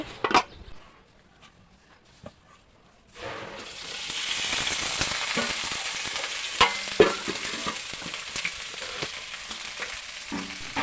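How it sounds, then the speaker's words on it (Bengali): Ivy gourd (kundri) frying in hot oil in a wok on a village stove, a few quiet knocks at first, then a steady loud sizzle with occasional stirring clatter and no talk. "কড়াই গরম হয়ে গেলে তেল দিয়ে দিচ্ছি এই তেল দিয়ে কুঞ্জিগুলো আমি ভেজে নেব"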